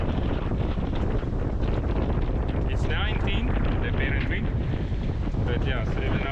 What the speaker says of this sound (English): every now and then there's a gust coming through